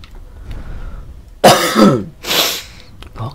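A few harsh coughs or throat-clearing bursts from a person, close and loud, in two quick clusters after a quiet stretch of low background noise.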